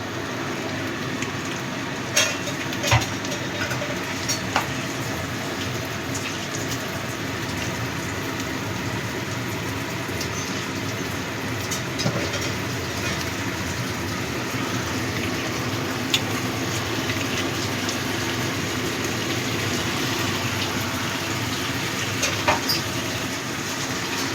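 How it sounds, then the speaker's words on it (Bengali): Water rinsed from a mixer jar pours into a pan for a katla fish curry, producing a long, steady rushing splash with occasional small clinks, close and fairly loud, with no voices. "মিক্সিং জারটা ধুয়েও জল দিয়ে দেবো"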